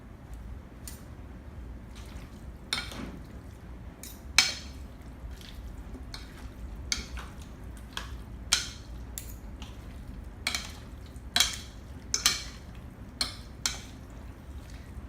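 A utensil clinks and scrapes against a bowl while chicken hot salad ingredients are mixed, giving irregular, moderately close taps and soft stirring sounds.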